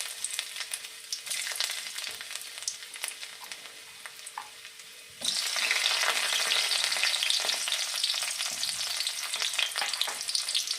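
Ginger and garlic fry in hot oil for a Kerala hotel-style fish curry, with a quiet crackle that jumps to a louder, denser sizzle about halfway as more goes into the pan, then holds steady.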